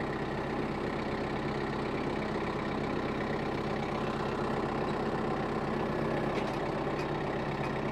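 A tractor-mounted auger bores a fence post hole, the tractor's engine droning steadily and close throughout with a low, even mechanical rumble.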